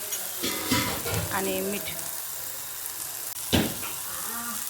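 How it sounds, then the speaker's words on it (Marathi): Nalge frying in a pan with turmeric and salt, a steady sizzle running throughout with stirring scrapes, while someone talks over it. "आता आपण थोडं नळग्याला फ्राय करूया 5 मिनिटं."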